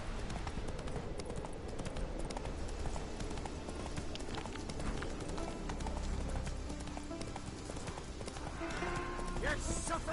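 Roach the horse gallops in The Witcher 3 with steady, rhythmic hoofbeats running continuously beneath game ambience and combat sounds.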